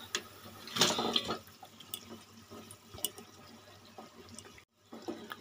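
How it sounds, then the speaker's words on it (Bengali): Fish roe fritters dropped into a simmering curry gravy in a pan: a burst of splashing and sizzling bubbling early on, then softer intermittent bubbling and small clinks, with a brief silent gap near the end. "এবার আমি মাছের ডিমের বড়াগুলো সব দিয়ে দেব।"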